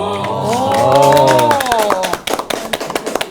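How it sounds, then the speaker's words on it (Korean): People in a broadcast studio give a short cheer, then break into a quick burst of brisk, close handclapping that lasts about a second. "우리가 박수 친 걸 지금 시청자분들 들으셨나요?"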